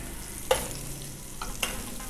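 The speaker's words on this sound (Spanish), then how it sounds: "Vamos a sellar la gallina hasta que cambie de color" Hen pieces sear in a little butter in a pan, giving a soft sizzle with a couple of brief stirring scrapes, close and fairly quiet, with no talking.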